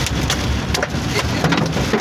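Hailstones clatter on a moving car on a road trip from Mumbai to Jaunpur, a dense, rapid patter of sharp hard impacts against the body and glass, loud and continuous with no voices.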